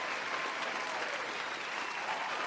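A brief, steady burst of crowd applause, dense and even, filling the whole moment without any voices over it.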